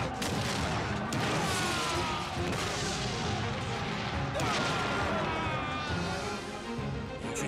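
Cannon fire in a historical drama battle: heavy booming blasts and crashes pound continuously over a dense, loud battlefield din, with sharper impacts around the second and fourth seconds.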